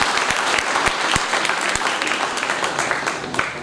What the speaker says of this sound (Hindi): हम आपका ताली बजाकर इसका अभिनंदन करें।